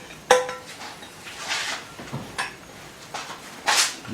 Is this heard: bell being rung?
no